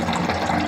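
Water poured into the tank of a Trotec B6E ultrasonic humidifier, a steady, close rushing and splashing flow lasting under a second.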